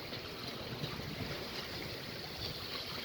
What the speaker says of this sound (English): that wind is increasing all the time